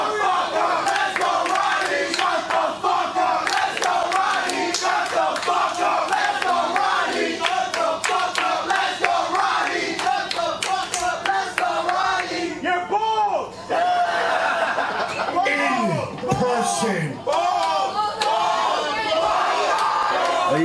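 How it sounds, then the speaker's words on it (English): A wrestling crowd at a live ring event chants in a loud, rhythmic roar mocking a wrestler's baldness, voices pulsing together and swelling, with a commentator's voice briefly audible. "Well, you hear the ball chant"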